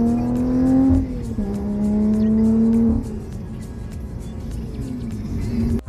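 A Lotus sports car accelerates hard and close, its engine note climbing steadily, dropping at each gear change, then climbing again through several gears.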